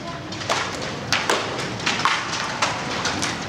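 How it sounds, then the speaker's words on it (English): Sharp irregular impacts crack against a steady roar of heavy hail hammering down, loud and close, with several distinct louder strikes standing out. "That's a brutal hailstorm."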